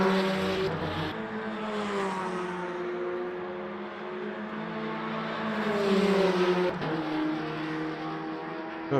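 GTE race cars running bumper to bumper at Sebring in Le Mans Ultimate, with steady loud engine drone and shifting revs as several cars run close together, pitch rising and falling through gear changes.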